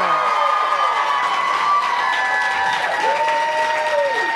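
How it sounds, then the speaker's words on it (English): An audience applauds and cheers loudly, with whoops and yelling voices rising over steady clapping. "And we don't even have an applause sign, Adam."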